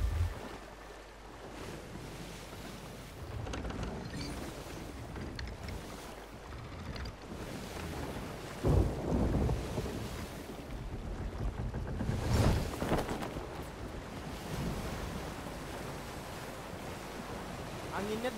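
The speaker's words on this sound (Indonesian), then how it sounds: "Anginnya deras." Strong wind gusting across a microphone outdoors near open water, a continuous rushing roar with louder buffeting surges, no voices heard.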